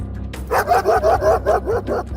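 A dog barks in a rapid run of about six sharp, loud barks, close up and layered over a low, steady background rumble.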